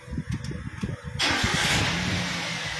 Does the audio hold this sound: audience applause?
no